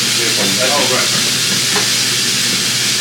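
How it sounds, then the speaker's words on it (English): A coffee roaster's internal paddle turns roasting Colombian coffee beans, giving a loud, steady, close hiss with soft rattling throughout. "it has an internal hélice that makes the coffee roast uniformly"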